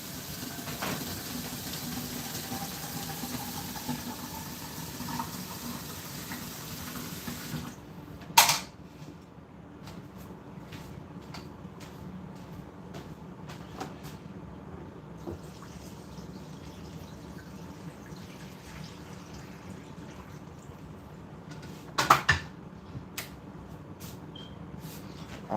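Water runs from a tap to fill a pot for cleaning, a steady rushing hiss for about eight seconds that then cuts off, leaving a quiet room with a few sharp knocks.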